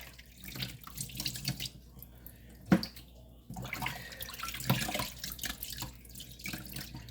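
Tap water runs and splashes in a kitchen sink while chitterlings are rinsed, with uneven gushing and sloshing as the pieces are moved under the stream, heard close up.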